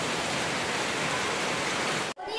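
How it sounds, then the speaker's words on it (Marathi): Dense, loud Konkan rain pours steadily without pause, then cuts off abruptly near the end. "परत पाऊस आलाय जोरात."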